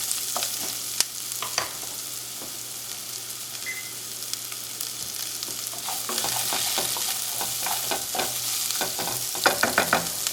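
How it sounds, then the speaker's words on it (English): Onions sizzle with garlic and ginger in a pan for a chicken and tofu stir fry, a steady close frying hiss broken by scraping stirs that grow busier toward the end. "I'm going to add my onions and let them cook for about a minute."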